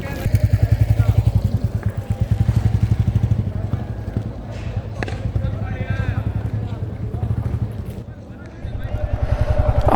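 A motorcycle ridden during a driving-licence test demonstration, its engine a steady, close pulsing throb that rises and falls as the bike moves, loud throughout the ten seconds.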